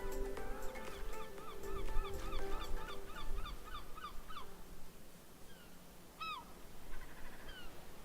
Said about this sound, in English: Was there seagull sounds before? I don't remember there being seagull sounds.